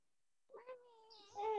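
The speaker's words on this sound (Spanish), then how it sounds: "El gato." A cat meows nearby, a short rising call that swells louder at the end, following a brief quiet moment.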